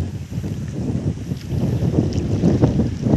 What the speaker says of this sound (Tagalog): mahangin po ngayon dito